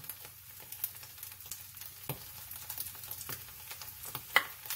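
Corned beef hash fries in a pan, crackling and sizzling close up with irregular pops and spits over a low steady hiss, no voices.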